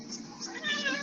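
A large house cat gives a short, close meow that swells and stretches, drawn out and a little grumbling.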